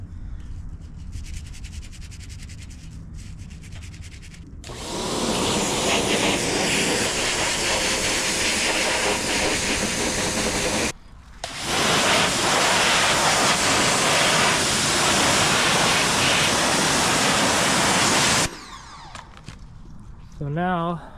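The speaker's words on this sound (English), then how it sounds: "But now I am out here pressure washing off the frame." A pressure washer blasts the frame of a disassembled Yamaha RZ350 motorcycle, a loud broad hissing spray in two long bursts with a short break between, quieter ambience before and after.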